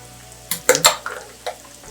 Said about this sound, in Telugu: ఇది ఉడక ఆనియన్ ఆ పేస్ట్ ఇందులో వేసి మంచిగా గోలిద్దాం